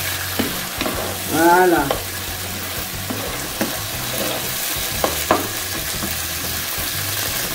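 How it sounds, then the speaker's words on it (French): Tomato, onions and garlic fry in a pan with a little oil, giving a steady close sizzle broken by occasional stirring scrapes, with a brief voice heard once. "je fais revenir un peu ma tomate, les oignons et de l'ail"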